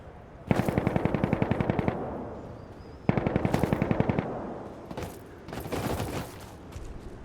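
Automatic rifle fire in the online shooter Insurgency: Sandstorm comes in two long rapid bursts, then a shorter, more muffled burst, loud and close with brief pauses between.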